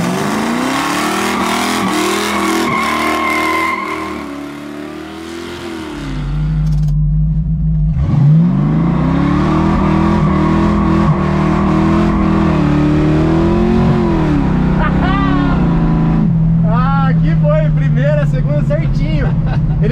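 Chevrolet Chevette fitted with a V8 engine accelerating and revving hard nearby, a loud rumbling idle rising into repeated roaring revs with gear-like pitch sweeps, while people talk over it.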